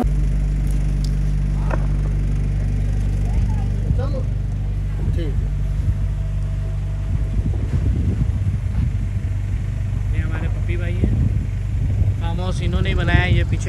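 A car being driven during a learner's practice session at a farmhouse, giving a low steady engine rumble close by, with people talking over it.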